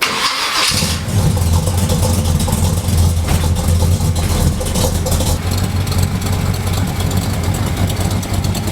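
Squarebody Chevy truck engine turns over and settles into a loud, steady, rumbling idle up close while warming up, running continuously.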